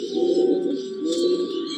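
Pure Teddy pigeon in a loft gives a soft, sustained throaty coo, close and clear, with a slight chirpy edge and no talk over it.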